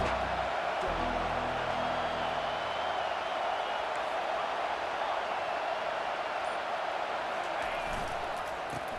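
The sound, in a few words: stadium crowd noise in EA Sports College Football 25 video game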